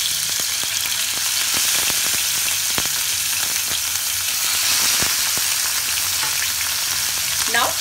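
Marinated fish fries in hot oil, giving a loud, dense, continuous crackling sizzle with frequent sharp pops, heard up close without any voices.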